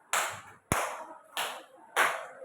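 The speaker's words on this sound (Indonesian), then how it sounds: "Tepuk tangan 4 kali." Four crisp group hand claps in a classroom exercise, evenly spaced about two-thirds of a second apart, each a sharp, close burst fading quickly before the next.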